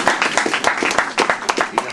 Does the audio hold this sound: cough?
no